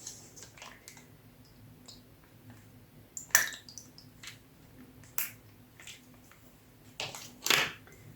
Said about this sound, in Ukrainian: Перемішуємо і салат готовий.